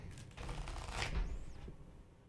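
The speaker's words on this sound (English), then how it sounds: "Do you want to shuffle this deck?" A deck of cards is shuffled indoors, giving a brief close riffle of rapid flicking that builds and then trails off over about two seconds.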